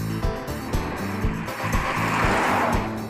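A restored 1987 Ford Capri Laser drives along on a test drive, the engine humming steadily with rhythmic pulses and rising road and tire noise, heard from close by inside the car.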